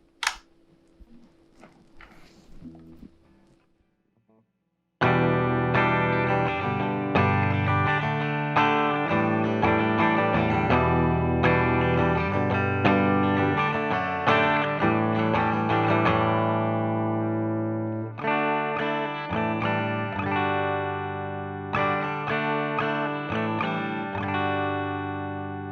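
Electric guitar on its bridge pickup, a Strat or Tele, with an effects unit adding a bright, driven edge; a few quiet notes come first, then full, sustained chords and riffs ring loudly and continuously, with brief breaks between phrases.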